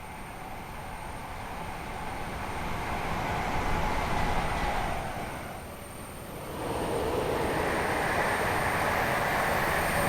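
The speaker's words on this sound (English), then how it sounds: "this is a very well modelled locomotive that's not a complete walk in the park to drive" Locomotive running in Train Simulator, heard as a steady broad rumble of wheels and engine that swells and then briefly dips before settling back to a constant moderate roar, with no talk.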